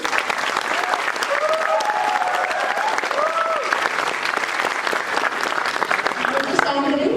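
Steady applause from an audience at a college dramatics club play, honoring the anchor; dense clapping fills the whole stretch, with voices and cheers woven through and a brief spoken voice near the end.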